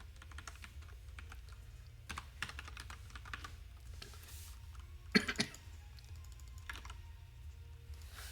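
Code is typed on a computer keyboard in quiet, close, irregular bursts of soft key clicks, with a few sharper clacks midway and no talk over it.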